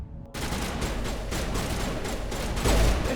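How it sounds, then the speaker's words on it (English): Sustained automatic gunfire in the video game Mass Effect Legendary Edition, a loud continuous burst of rapid shots that starts abruptly after a brief quiet moment and swells near the end. "They're shooting a rock."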